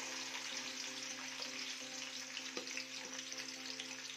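Onions frying in hot ghee for an aloo mongray dish make a soft, continuous hiss with faint crackle, low and steady throughout with a quiet background hum.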